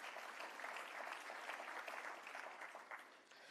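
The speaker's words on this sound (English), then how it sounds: "I think that deserves a big round of applause" An audience at a Caribbean Poultry Association conference opening session claps steadily in sustained applause, a dense even patter that fades slightly at the end.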